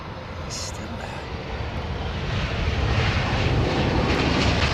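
Airbus A330-900 airliner flying past, a broad steady engine roar that grows slightly louder over the seconds, with a voice talking over it.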